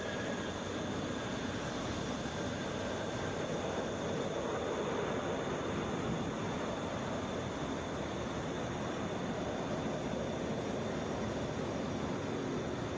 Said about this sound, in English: Airbus A321.